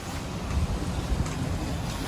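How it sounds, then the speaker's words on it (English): Strong wind roars steadily over a deep, rumbling low end, with irregular thumps as a boat rocks and knocks about in rough Red Sea water. "You can hear the wind howling. Boat bouncing around in it."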